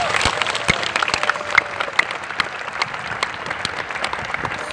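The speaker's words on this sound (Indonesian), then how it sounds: "Mari kita tepuk tangan untuk mereka." Audience applauding musicians at a large open-air concert at Monas, Jakarta, a steady wash of many hands clapping with a few sharper claps standing out, moderately loud and continuous.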